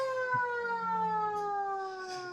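A shipboard siren on the destroyer USS Joseph P. Kennedy Jr. sounds as one steady, loud wailing tone whose pitch slowly sinks, heard alone without voices.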